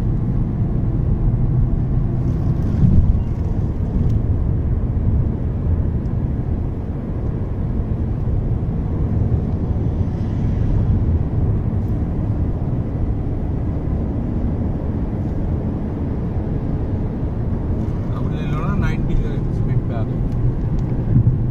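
Steady, loud low rumble of a Nissan Magnite non-turbo car driving on the road in top gear, heard from inside the cabin, with engine and road noise blending into one continuous drone.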